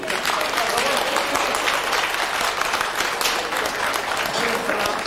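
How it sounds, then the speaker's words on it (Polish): Audience clapping steadily at a Polish wedding band competition awards ceremony, a dense crackle of many hands held at a constant level for several seconds. "Drodzy Państwo, ale ja nie słyszę owacji dla pani Małgosi."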